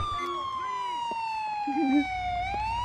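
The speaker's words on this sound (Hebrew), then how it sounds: "היי, אמבולנס." An ambulance siren in the video game GTA IV wails with a slowly falling then rising tone, steady and fairly close, while a voice speaks briefly over it.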